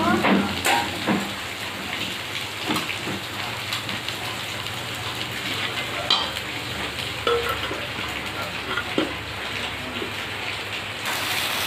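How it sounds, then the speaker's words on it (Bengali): Food frying in a pan gives a dense, continuous crackling sizzle, close and fairly loud, with scattered sharper pops and clicks throughout and no clear voices. "এখন ভাজা হয়ে গেছে, নামিয়ে নেব"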